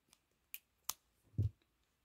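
Scissors snip crochet yarn in a quiet room, a few short, sharp clicks spaced apart, then one softer, duller cut.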